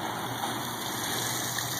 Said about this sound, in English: yeah, little waterfall.